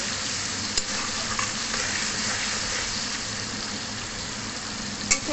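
Tomatoes fry in a pan with salt while being stirred, giving a steady close sizzle throughout with a couple of sharp scraping clicks from the stirring.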